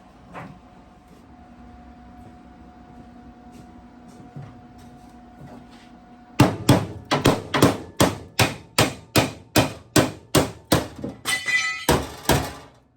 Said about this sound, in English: I have to support the bottom again so I can hammer that flat